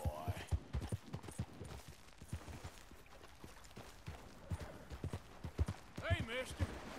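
Horse hooves clip-clop in Red Dead Redemption 2, steady irregular thuds on a trail at moderate distance, with some rattling and a brief high squeal near the end.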